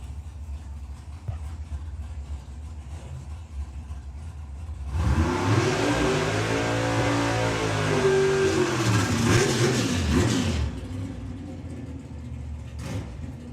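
Super Comp drag racing cars launch in a final, a loud engine roar bursting in after quiet, sweeping up and down in pitch for several seconds before cutting off abruptly.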